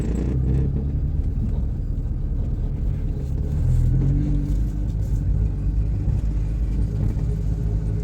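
A car pulls away gently during a driving lesson, giving a low, steady engine rumble that rises slightly as it accelerates and moves off, with no speech heard.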